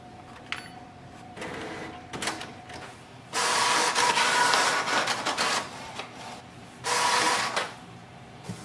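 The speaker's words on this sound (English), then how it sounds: "Next step is to start the alignment to improve the print quality." A Canon Maxify GX5050 inkjet printer runs its alignment page, with soft mechanical whirring and clicking broken by two louder stretches of carriage movement, close and with no voices.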